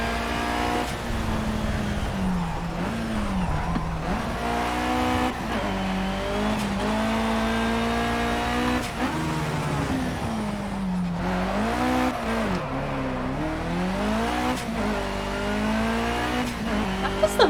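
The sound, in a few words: handbrake turn with tire squeal in Project Cars video game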